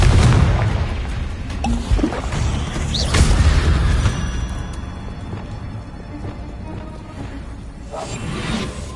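Confringo blasting spell going off in Hogwarts Legacy, a loud low boom at the start with a swooshing burst near three seconds, then rumbling debris and mechanical rattles fading under a softer second swell near the end.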